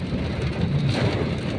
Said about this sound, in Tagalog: Lakas ng baha, ulan.